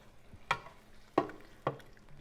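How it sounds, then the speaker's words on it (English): Water goes into a pot of chicken and tomato paste cooking for Cameroonian ikoko, producing three short, close sizzling splashes with quiet gaps between them and no talking. "Now I'm going to add water."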